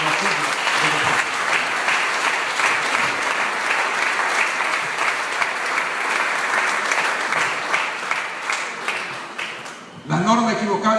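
Sustained, loud congregational applause in a church service, a dense wash of clapping held steady for about ten seconds before a preacher's voice cuts back in.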